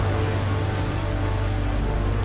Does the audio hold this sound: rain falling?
yes